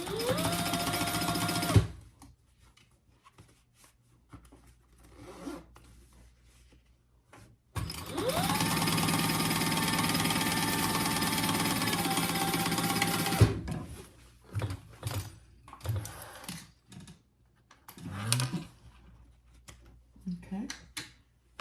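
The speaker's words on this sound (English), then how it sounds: "I am just going to top stitch my outside piece" A sewing machine top-stitches the outside piece of a fabric laptop bag, running in a short opening burst and then one steady, even whir for about six seconds, with quieter handling noises and pauses around it.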